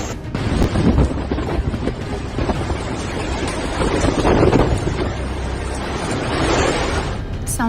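Strong tornado wind roaring and buffeting a microphone in Turkey, a loud, constant, rushing gusty noise that fills the whole stretch with no voices.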